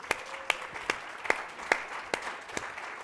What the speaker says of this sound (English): give yourselves a round of applause as well